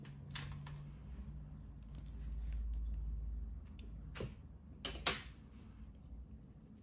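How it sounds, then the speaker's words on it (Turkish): Scissors snip through crochet yarn, producing a couple of sharp, close cutting clicks amid quiet handling noises and soft rustling. "Bu renk ipliği kesiyorum"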